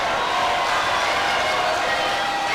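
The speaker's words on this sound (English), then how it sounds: "Pie High faithful cheering that one on." Home crowd at a Pioneer boys basketball game cheering in a gym, a loud sustained roar of many voices filling the whole moment.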